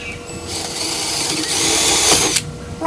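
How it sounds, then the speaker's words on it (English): A power drill bores slowly with low pressure into cedar wood, giving a steady whirring buzz that rises in intensity and then stops abruptly. "Drill a little slower. Very low pressure for the cedar."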